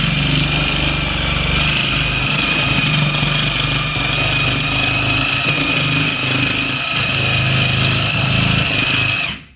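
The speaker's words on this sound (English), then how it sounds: "I'm going to try to do this with a Sawzall." A Sawzall reciprocating saw buzzes loud and continuous, cutting through a pig carcass on a table, a steady droning rasp that holds for several seconds and then cuts off abruptly.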